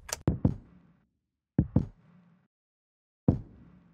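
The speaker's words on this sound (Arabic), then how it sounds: "الستومب ده صوت بيتسجل يعني ممكن برجليك، يعني ممكن بيبقى زي مجموعة كده" A stomp sample layered with a kick drum, produced for an orchestral-style song arrangement: three separate heavy, punchy hits, the first two as a quick double thump, then a pause and a single final hit, each with a short boomy tail.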